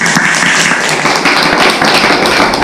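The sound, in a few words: applause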